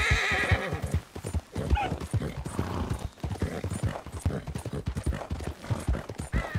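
A mare gallops in the video game Red Dead Redemption 2, with rapid rhythmic hoofbeats on open ground and a whinny partway through, loud and close with no talk over it.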